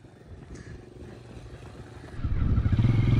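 A child's small dirt bike sits on a family desert trip, its engine puttering at a low idle before the throttle opens and the revs climb into a louder, rougher buzz close by.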